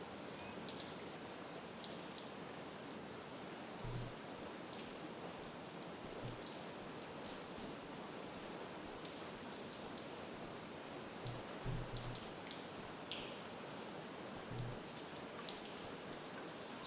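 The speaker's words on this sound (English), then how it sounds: "I can hear the water rushing down the left-hand pipe." Water rushing down a pipe in The Angel of Death, a faint, steady hissing wash like rain, continuous throughout with a few soft low thumps.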